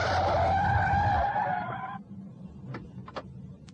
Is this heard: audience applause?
no